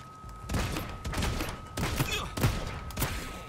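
Repeated gunshots from a submachine gun or assault rifle in the battle royale game Realm Royale. Several sharp bursts ring out over a steady game hum, fairly close and loud, with a voice murmuring faintly under them.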